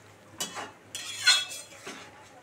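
Shol (snakehead) fish pieces, a kilogram in all, dropped into a pot of simmering curry, a few soft splashes and clinks of a utensil against the pot, close and quiet with no talking.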